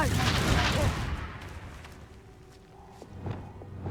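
The Confringo blasting spell bursts in Hogwarts Legacy with a loud, booming hit at the start that fades into a rumbling tail, followed by a few smaller thuds and impacts.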